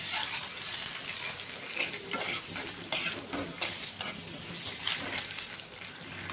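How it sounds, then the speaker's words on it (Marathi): Eggs frying in a masala in a pan, giving a steady close sizzle with scraping sounds as they are stirred and turned, at a moderate level and with no talking. "लाल कलर येईपर्यंत आपल्याला हे अंडे असे परतून घ्यायचे"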